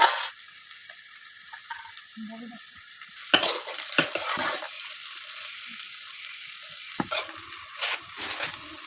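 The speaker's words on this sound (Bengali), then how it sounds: "ফ্রাই হয়ে আসছে পেঁয়াজগুলো লাল লাল" Onions frying in oil in a pan for pulao, a steady close sizzle with intermittent scraping stirs and a few sharp utensil knocks, no voices.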